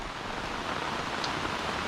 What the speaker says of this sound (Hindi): सुबह से जो बारिश चालू हुआ है बंद ही नहीं हो रहा है